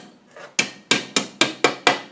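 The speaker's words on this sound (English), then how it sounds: "So let me put the bearing in" A bearing is tapped into the main case of a Rover P6 LT77 gearbox. Six sharp metallic hammer blows land at a steady rhythm after a soft lead-in, close and loud with no talking.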